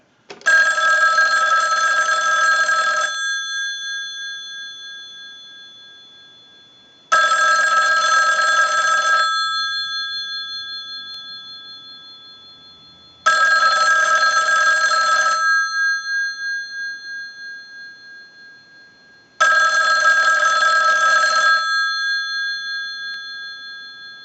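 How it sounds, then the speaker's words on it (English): A 554 rotary dial wall telephone's bell rings in four loud, even bursts of about two seconds each, separated by roughly four-second pauses, with no voices. "send a ring cycle like you were getting a call"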